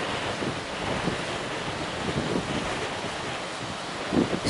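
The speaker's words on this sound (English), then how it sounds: "It's blowing pretty good." A strong northeaster batters the shore at Cedar Island, North Carolina, with gusts up to 65 mph; steady roaring wind buffets the microphone over crashing surf, with occasional stronger gusts.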